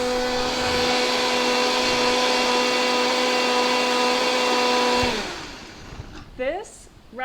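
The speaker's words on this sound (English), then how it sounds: "Putting the lid back on, blending this a little bit longer." Kitchen blender pureeing peas, a loud steady motor whine with a constant pitch for about five seconds before winding down abruptly, followed by quiet clattering and brief talk.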